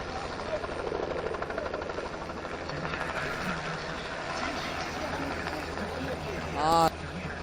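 A helicopter flying backwards, tail toward a fixed point, during an aerobatic display at a helicopter expo in Tianjin, throbs steadily at mid distance for the whole stretch. Crowd noise and voices run underneath, with a brief louder swell near the end.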